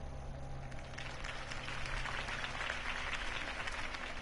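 A video game crowd bursts into sustained applause and clapping that swells and holds, heard at a moderate distance over a low background hum.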